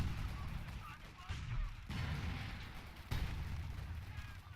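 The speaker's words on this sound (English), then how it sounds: "Grenade goes in on the Volksgrenadiers." A grenade blast in a WWII strategy game lands among the broad, sustained roar of continuous battle, with repeated heavy explosive bursts and gunfire over a dense low rumble.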